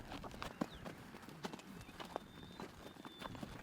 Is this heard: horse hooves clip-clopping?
yes